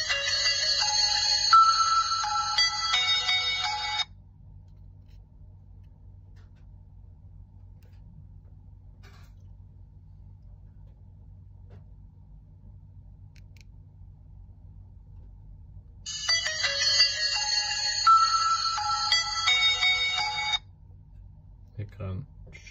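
A Chinese copy of a Nokia 6700 phone plays a bright, chiming electronic ringtone melody in two bursts of about four seconds each, separated by quiet background hum.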